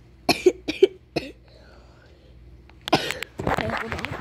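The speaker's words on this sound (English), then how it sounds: "Today, I have a cough" A few sharp coughs from a person sounding close, a short cluster near the start, followed by a quiet pause and then rustling handling noise.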